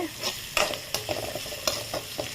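Onions sautéing in a pan for radish sambar, a steady close sizzle broken by several sharp scraping stirs of a spatula at irregular intervals, with no talking.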